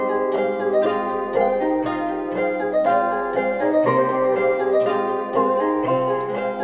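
A trap beat built in FL Studio from three layered instruments, including a Sakura sample, playing loud and steady with stacked melodic tones over a constant low bass pulse, no voices.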